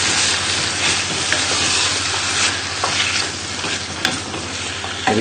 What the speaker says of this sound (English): We'll give that a little stir.